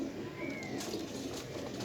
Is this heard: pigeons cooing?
yes